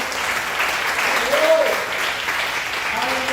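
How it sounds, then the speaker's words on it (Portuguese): Church congregation clapping for Jesus during a Portuguese-language sermon, a steady wash of applause with a brief voice rising through the middle. "Uma salva de palmas para Jesus."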